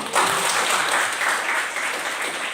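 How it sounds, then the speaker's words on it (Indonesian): Classroom students applaud together, a dense steady clatter of many hands clapping close by that fills the room, with no talk over it. "Berikan tepuk tangan dulu."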